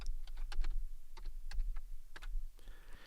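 Quick clusters of crisp clicks from a computer keyboard come close and fairly quiet, tapped in short bursts with brief pauses, then a soft whirring hum at the end.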